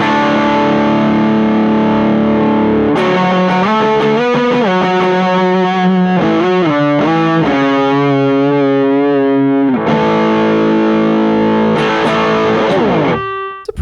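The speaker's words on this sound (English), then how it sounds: "Here's the distortion. Again, everything just kind of at noon." Electric guitar through the distortion channel of a Donner Triple Threat multi-effects pedal, with all knobs at noon: loud, saturated sustained chords and a run of quicker changes, ending in a scraping strum, with no voice.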